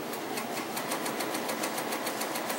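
Home sewing machine stitching curved fabric arcs for a giant dahlia quilt block, a steady rapid whirring hum with even stitch pulses running continuously at close range.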